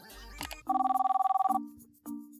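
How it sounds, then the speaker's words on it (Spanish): A telephone rings back in an outgoing call, a clear repeated electronic trill heard alone and close up, followed by a shorter tone. "Le llamaré a Tlali"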